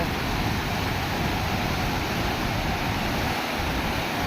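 Water pouring down from a large canal outlet, a steady, loud, broadband roar of falling water that continues unbroken throughout, with no voices.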